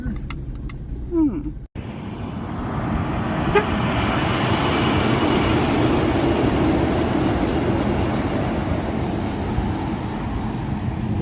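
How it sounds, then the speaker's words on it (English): A road train truck rumbles past on an outback highway near the Madura Pass lookout, a loud broadband roar that builds after a brief pause and holds steady, with faint background voices. "There's an example of a road train"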